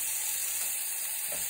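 Bottom round roast searing fat side down in a hot pan, a loud, close, steady sizzle and crackle of rendering fat with no voices over it.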